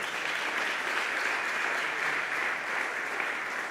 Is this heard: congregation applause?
yes